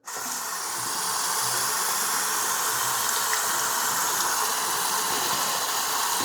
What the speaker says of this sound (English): We're going to flush it for 20 seconds with cold water, kind of like a Brita filter.